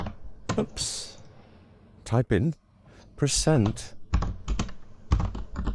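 Keys clatter on a computer keyboard in short bursts while a Windows run command is entered, with a person talking over much of the typing.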